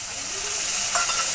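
Spice masala fries in a pan with a splash of water, making a continuous loud hiss and sizzle with light stirring over it.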